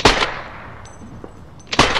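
Loud gunshot bursts at the start and end of the stretch frame a video game firefight against an armored vehicle, with a quieter gap of faint clicks and tones between them.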